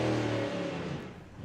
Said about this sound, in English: that's not what a race car is supposed to sound like